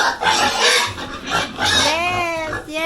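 Pigs in a small backyard piggery grunt and squeal loudly and close, with overlapping snorts and one rising squeal, and no one speaking.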